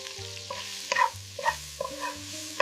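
Chopped tomato and pepper frying in a pan with onions, garlic and thyme for Jamaican bully beef, a steady close sizzle broken by several sharp scraping stir strokes over a soft tonal background.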